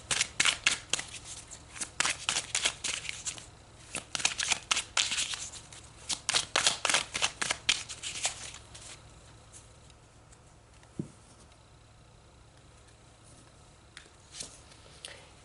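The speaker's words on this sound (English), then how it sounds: "So let's pull some more cards." Tarot cards being shuffled and pulled, with quick papery riffles and flicks that come in dense bursts for several seconds and then thin out to a few soft taps and slides close by.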